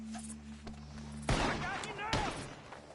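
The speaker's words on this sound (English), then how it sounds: "Gunshots are coming from that barn." Gunfire rings out from a barn in the Red Dead Redemption 2 video game, two sharp loud bursts with ringing tails over a steady game score.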